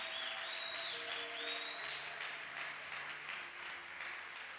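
A church congregation applauds loudly and steadily at a special blessing service, with sustained clapping filling the room and a few voices and faint tones beneath.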